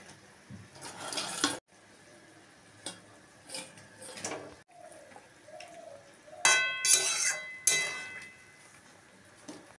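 Fried paneer pieces dropped into a pan of chilli paneer gravy: intermittent clinks and knocks of utensils and cookware, with a soft bubbling simmer and a louder clatter of metal near the end.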